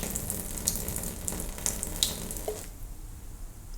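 Milk stout poured out in a continuous splashing stream, close and fairly loud, with a few sharp clinks before it cuts off to a quieter tail.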